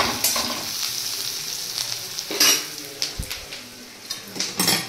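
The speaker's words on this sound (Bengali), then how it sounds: "এখানে 5 ফোড়ন দিয়ে ডালটা সম্বুরবো" Boiled lentils being tempered with five-spice seeds in hot oil, a steady sizzle broken by scraping stirs and clinks of a metal spoon against the pan, close and fairly loud.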